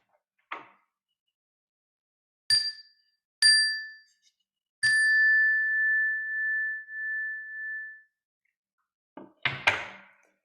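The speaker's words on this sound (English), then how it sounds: "I'll ring the bell at the start of the meditation" A meditation bell is struck a few times with clear bright dings, the last one ringing out in a long sustained tone that slowly fades, framed by soft knocks and rustles before and after.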